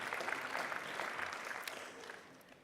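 Quiet, distant audience applause at a conference closing session, a soft continuous patter of clapping that slowly tapers off.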